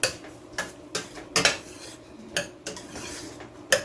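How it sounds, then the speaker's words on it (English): A utensil clinks against a pot while stirring seasoning into Jamaican-style curry shrimp, a series of sharp irregular metallic taps about every half second, close and alone with no talk. "I'm also gonna add the rest of my seasoning. And then stir."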